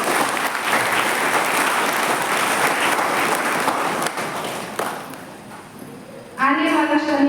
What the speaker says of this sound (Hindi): कक्षा के सभी भाई बहनों को तालियां बजाकर धन्यवाद दें